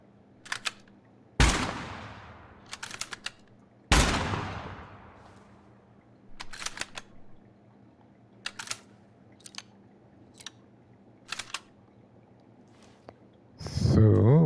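Guns are fired in the PS5 video game Gunsmith Simulator. Two sharp, loud single shots ring out with decaying tails, among scattered mechanical clicks, and a louder sound rises at the end.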